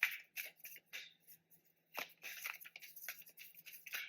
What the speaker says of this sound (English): And while I am shuffling